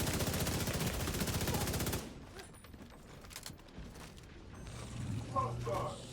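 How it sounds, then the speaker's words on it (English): Rapid machine gun fire in a video game rattles loudly in a dense burst for about two seconds, then gives way to scattered mechanical clatter and thumps as someone speaks over it. "I got the machine gun guy shooting at me."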